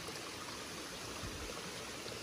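Rainwater runs down the roadside after heavy rain, a faint, steady rushing trickle with no pauses and no voices over it.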